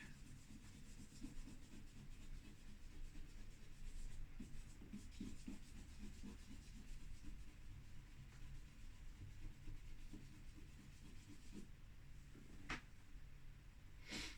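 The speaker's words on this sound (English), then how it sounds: "using the eraser just also alters the graphic quality of the artwork" An eraser rubs steadily over a charcoal and chalk pastel portrait drawing, making a soft, continuous scrubbing sound with short stroke-like pulses. It is faint and close, with no talking.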